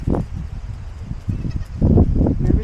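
Young goat kids on a farm let out short, close bleats, one early cry followed by a cluster of quick calls near the end, over soft low rustling.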